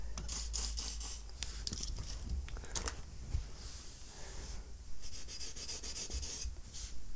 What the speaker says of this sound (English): Bit of oil to clean the rest of the rust off.